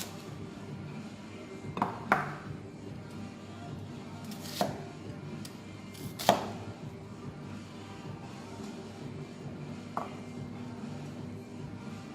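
A knife chops an onion on a board in a few sparse, sharp knocks spaced seconds apart, close and fairly quiet over a low room hum, with no talking.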